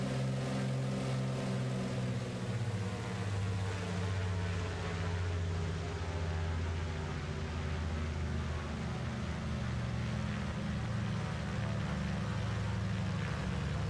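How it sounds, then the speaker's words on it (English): Grumman JRF-6B Goose twin radial-engine amphibian in Microsoft Flight Simulator, a steady throbbing engine drone that gradually winds down as the aircraft decelerates after touchdown, continuous with a faint voice over it. "we're just gently allowing the aeroplane to slow down and decelerate."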